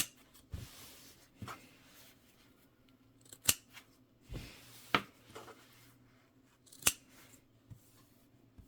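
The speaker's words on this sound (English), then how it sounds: "You want to go ahead and just trim your corners." Scissors trim the corners of a sewn fabric Bible cover with several quiet, separate snips spaced a second or two apart, close by in a calm room with no talking.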